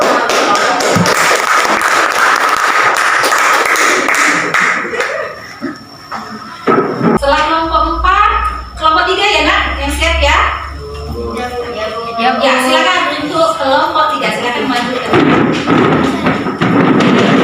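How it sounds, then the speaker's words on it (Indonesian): Audience applause in an Indonesian classroom setting, a broad wash of clapping for the first several seconds, then fading as children's voices and talk take over, with a few thumps. "Ya silakan tepuk tangan."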